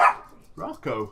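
A neighbour's dog barks nearby in a few sharp, loud bursts, one at the start and two more close together near the end, while a person briefly calls out between them.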